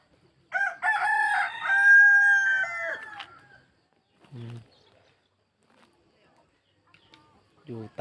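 Near a village house in Luang Prabang, a rooster crows once loudly for about three seconds, followed by quiet gaps and a few short, low clucks from chickens.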